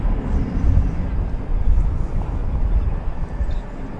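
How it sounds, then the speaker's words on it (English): Airliner rolling down runway 18 Left at DFW Airport gives a distant, fluctuating low rumble of jet engines and wheels. The roar swells and fades over a few seconds. "Flight 2368 to San Antonio is now rolling down 18 left."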